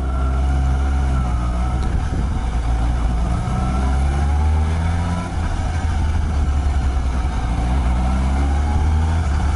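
A Suzuki GSX-S750 motorcycle rides through city streets, its engine a steady, close, low droning hum with continuous road and wind noise and no talking.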